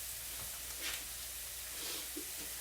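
Onions searing in a frying pan, a faint, steady hissing sizzle with a few soft pops and small swells, heard at low level without talk.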